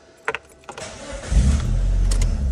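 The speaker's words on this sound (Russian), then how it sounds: "Автомобиль еще заводится." A Mitsubishi Lancer 9 with chip tuning is started: a couple of sharp clicks of keys or switches, then the engine cranks and catches, settling into a loud, steady idle close by.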